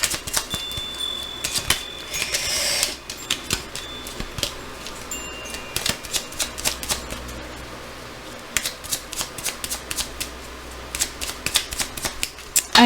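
A deck of fairy oracle cards is shuffled by hand, with repeated quick riffling bursts and crisp card slaps in an irregular rhythm, close and fairly loud.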